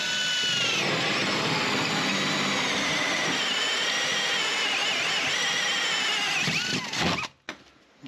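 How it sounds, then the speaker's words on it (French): A hole saw on a drill cuts holes for electrical outlets in an old house, making a loud, steady, high whining grind for about seven seconds. The whine then stops abruptly, followed by a few short clunks. "je vous fais voir du coup un petit coup de scie cloche pour les prises de courant"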